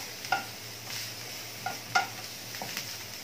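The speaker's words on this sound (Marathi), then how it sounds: "आणि गुळ याच्यामध्ये पूर्ण असं वितळवायचं आहे" Jaggery melts in a pan over a low flame for a coconut modak filling. A spoon stirs it with a faint sizzle, and a few sharp clinks and scrapes stand out. The sound is quiet and close, with no voices.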